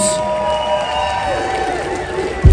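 A crowd at a tattoo convention concert in New Jersey cheers and applauds, a sustained roar of voices with clapping beneath, fairly loud throughout with a sudden heavier burst right at the end.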